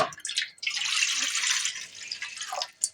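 Water poured into a container to mix lime water for a kitchen preparation of ash gourd preserve; a steady splashing pour lasts most of the stretch, with a few drips at the start and end, no talk.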